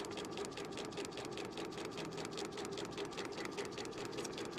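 A sewing machine stitches continuously along a line on paper, its needle hammering in a fast, even rhythm with a steady motor hum, close and uninterrupted for several seconds.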